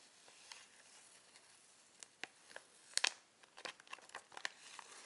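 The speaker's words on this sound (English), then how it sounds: "let me see if I can actually peel the sticker off" A paper sticker is peeled slowly off a vintage-style stationery sticker sheet, giving a few faint, sparse crinkles and soft tearing ticks, with a small cluster of sharper snaps partway through, close-up in a quiet room.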